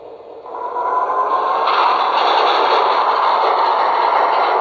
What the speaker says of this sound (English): give it some power so you can hear the locomotive notching up